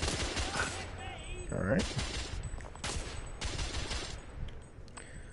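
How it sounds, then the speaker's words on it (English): Weapon gunfire in The Order 1886 on PS4, a steampunk shooter, with bursts of shots cracking out repeatedly across a few seconds under a voice speaking briefly. "Press R2 to fire your weapon."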